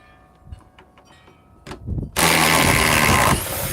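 A compact impact wrench fires in one loud, harsh burst of about a second, preceded by a few faint clicks and handling knocks.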